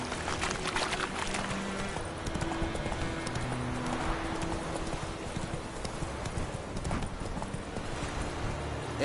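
A horse galloping in The Witcher 3, with quick rhythmic hoofbeats pounding steadily and loudly throughout, over a constant layer of ambient game sound.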